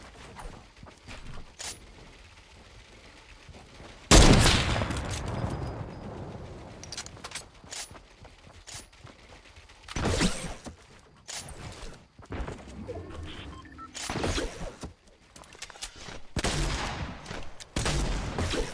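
Shotgun blasts in the video game Fortnite: several sharp, loud, widely spaced shots, the first and strongest followed by a decaying tail, with scattered quieter clicks and movement sounds between them.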